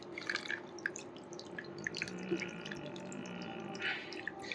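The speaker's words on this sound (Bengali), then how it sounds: "আমি একটু জল দিয়ে চেষ্টা করব তোমাদেরকে দেখানো যে জলটা বেরিয়ে যাচ্ছে কত ভালো করে" Water drains quickly through a plant pot fitted with an improved drainage layer, giving a steady trickle with scattered drips and splashes, fairly quiet and close, with no talk.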